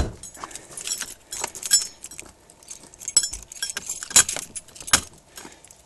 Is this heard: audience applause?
no